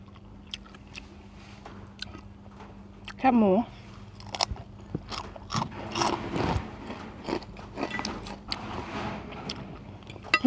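Crunchy chewing of pork rinds eaten with spicy Korean instant noodles, close and loud, with repeated crisp bites and munching while a person talks over it.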